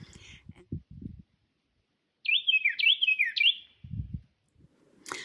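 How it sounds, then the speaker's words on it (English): A wren singing from the woods a short way off, a bright run of four or five rapid descending trills, with brief rustling and low sounds before and after and a sharp chirp at the end. "it looked a little bit like the wren singing"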